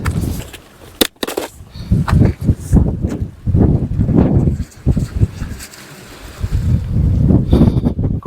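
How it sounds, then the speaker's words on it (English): Gusty wind buffets the microphone on the Isle of Skye coast, with loud, uneven rumbling surges that rise and fall throughout and no voices. "Just wish that wind would go away. It's just spoiling things a bit."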